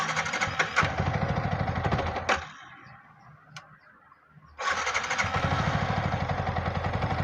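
A Yamaha MT15 motorcycle with a low-pickup fault idles with a close, rapid engine chug, cuts off abruptly into near silence with faint clicks, then restarts and settles back into a steady idle.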